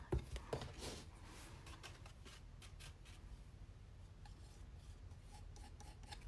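A palette knife scrapes paint on a painting made over an old book, giving soft, close rasping strokes, heavier at the start, then steady faint scratching with no voice.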